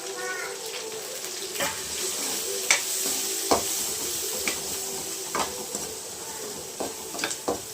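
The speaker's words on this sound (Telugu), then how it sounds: "ఇప్పుడు ఇది ఒక 2 నిమిషాలు బాగా వేయించుకునేద్దాం తాలింపునైతే." Onions and soaked chana dal sizzle steadily in hot oil for a Rayalaseema-style cabbage tempering, with a spatula scraping and tapping the pan in scattered clicks throughout.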